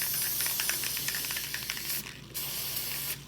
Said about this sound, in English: just taking spray glue and I'm gonna do the darker green on the bottom